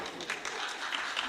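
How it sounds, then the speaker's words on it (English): Audience at a young women's parliamentary sitting clapping for themselves, a dense, steady burst of applause filling the room with no voices on top. "I want to hear you clap yourself."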